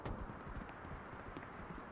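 Footsteps in a video game sound as a quick series of muffled thuds, faint and close, with an uneven rhythm over a low background.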